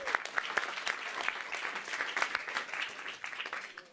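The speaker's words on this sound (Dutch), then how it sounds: "Een heel hard applaus voor deze mensen." Audience at a café event applauding, steady dense clapping with sharp individual hand claps standing out, moderately loud and fading slightly toward the end.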